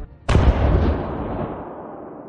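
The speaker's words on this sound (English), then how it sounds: "gunners manned the large deck cannon and opened fire" A single loud blast from a large submarine deck cannon booms out near an oil field, its heavy rumble slowly fading over the next couple of seconds.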